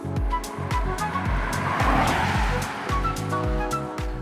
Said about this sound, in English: this 3-litre straight-six diesel has a lot of punch